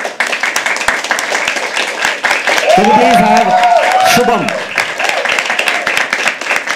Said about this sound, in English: Keep clapping until you come on stage